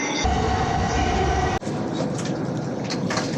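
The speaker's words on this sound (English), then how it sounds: "That's the Shinkansen." A steady, dense rush inside a fast Shinkansen bullet train with a loud whoosh. A sharp thump cuts in midway and the rolling roar continues afterward.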